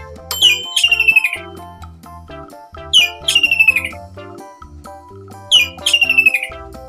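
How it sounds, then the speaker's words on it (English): A kingfisher calls in three evenly spaced bursts of shrill, rapid chirping trills, each clear and close over steady background music. "Kingfisher."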